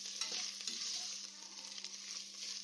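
Tomato sautéing in a pan for ghee rice, a continuous soft sizzle and frying hiss with a few light stirring scrapes, close and fairly quiet.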